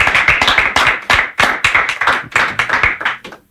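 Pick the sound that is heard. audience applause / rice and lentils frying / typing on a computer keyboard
audience applause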